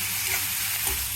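Boiled potatoes and flattened rice (poha) stirred together in a pan make a steady soft sizzle, with a gentle scraping of the spoon throughout and no voices.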